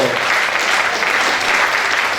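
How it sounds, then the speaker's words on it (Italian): Applause at a fashion event in Legnago: a loud, continuous wash of clapping from a close audience, holding steady without a break. "mi fate proprio l'applauso"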